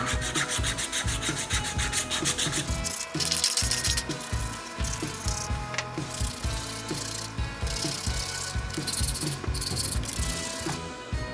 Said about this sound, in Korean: 인형이 부드럽게 열리고 닫힐 수 있도록 사포질을 먼저 해줄게요.